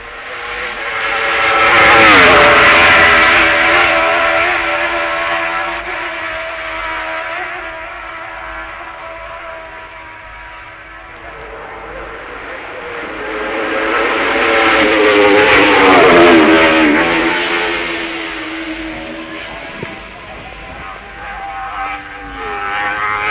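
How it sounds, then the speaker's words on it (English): A Honda racing motorcycle at full speed during the 1966 Isle of Man Senior TT, its high-pitched engine wail swelling loud as it passes near, fading, then rising again on a second approach. "Here's the Honda, starting the quickest lap ever done in the islands, hurtling over Beleg Bridge and rounding Signpost Corner"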